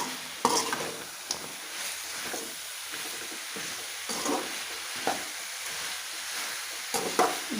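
Duck curry with garam masala stirred in a frying pan: steady sizzling hiss with repeated scraping and stirring strokes, close and moderately loud, no voices.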